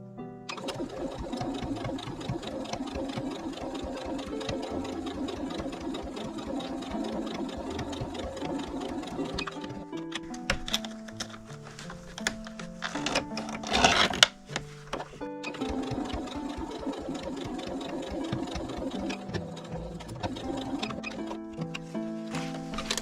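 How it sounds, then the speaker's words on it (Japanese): A sewing machine edge-stitches fabric for a patchwork pouch in fast rhythmic bursts, pausing briefly midway with some handling clatter before resuming, close and alone. "端ミシンかけます。"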